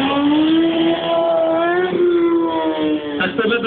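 A motorcycle engine revving during stunt riding, a loud, close, sustained buzzing whine that rises in pitch and then drops and surges again near the end.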